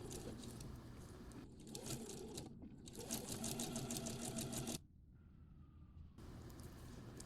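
A domestic sewing machine top stitches fabric at long stitch length, running in fast rhythmic bursts with brief pauses, the needle's rapid clatter close and clear, then stopping for a quiet gap before resuming.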